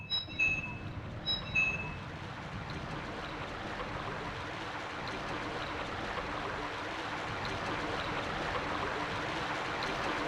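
A drainage valve in the Silent Hill 1 video game releases water with a steady rushing wash, preceded by two short chiming tones, continuing evenly at moderate loudness.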